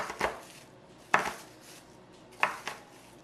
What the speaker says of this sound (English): And this is how I cut my onions.